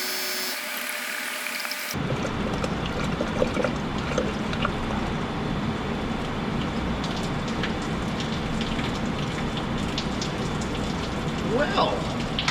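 Windshield washer fluid poured into the engine of an abandoned 455 Oldsmobile Vista Cruiser station wagon, a continuous close splashing, trickling hiss that begins abruptly and runs on evenly for about ten seconds.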